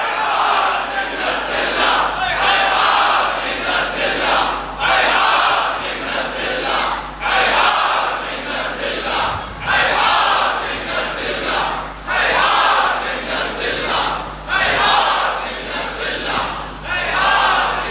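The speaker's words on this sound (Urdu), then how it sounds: "آپ اسی طرح دونوں ہاتھوں کو بلند کر کے ہیہات من الذلہ" A large crowd of mourners at a Muharram majlis in an imambargah chants a slogan in loud unison, the rhythmic shouts rising and falling in repeated waves over a steady low hum.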